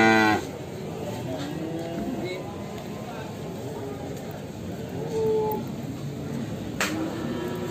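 Cattle, cows, low and moo in a busy livestock market in Muntilan, a long harmonic call near the start and shorter lows later, amid crowd chatter and background noise.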